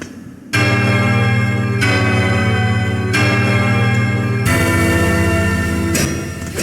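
Bell struck repeatedly in the video game Hollow Knight Silksong, giving loud metallic chimes with long sustained ringing, each new strike landing every second or so before the previous tone fades, with no voices.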